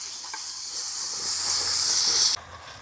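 Green chillies, finely chopped, and curry leaves hit hot oil in a pan with a bright, loud hissing sizzle that swells for about two seconds and then drops off abruptly, cooked at a night campsite among green chilli fields.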